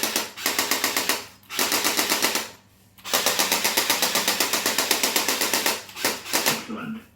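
A recoil light gun fires in rapid automatic bursts at the Terminator arcade shooter, a dense mechanical rattle running in long stretches with brief pauses between them.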